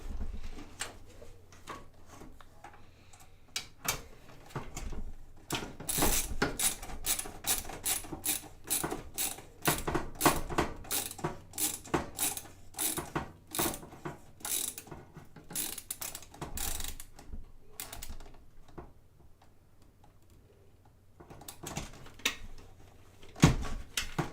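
Ratcheting clicks of a screwdriver driving six screws into a PC motherboard during a home computer rebuild, coming in dense close bursts of sharp ticks with short pauses between them, no talk.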